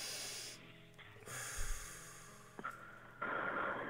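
Deep breaths taken during a guided breathing exercise on a radio programme, a few audible inhalations and exhalations with hissy airflow, fairly faint and close, separated by brief pauses.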